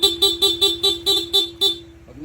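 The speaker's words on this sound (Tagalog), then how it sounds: "stock horn yan" A Honda ADV160 scooter's stock horn honks in a quick series of about seven short, loud beeps, then stops.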